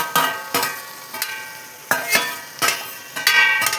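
Potatoes and onions being stirred in a hot pan, with repeated scraping strokes and a light sizzle running underneath at an irregular rhythm, close and moderately loud.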